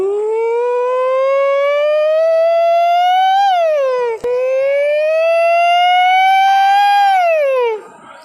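A person imitates a wailing ambulance siren with their voice, rising and falling in two long sweeping cycles, loud and close, with no other sound.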